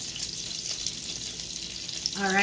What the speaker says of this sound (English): we're just gonna put the lid on, let it simmer